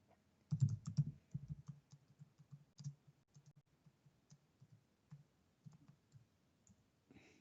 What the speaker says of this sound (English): You can probably see me typing.